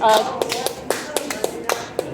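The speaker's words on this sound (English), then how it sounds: "Clap, clap, clap." A few people at a public comment session of a town meeting in Morrison, Tennessee, clap sparsely, about a dozen separate claps spread out and uneven, after a short voice at the start.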